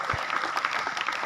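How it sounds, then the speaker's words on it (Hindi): Schoolchildren clap together to welcome a chief guest at a school retirement function, a short, steady patter of many hands. "बच्चों से मेरा अनुरोध है कि तालियां बजाकर इनका स्वागत करें"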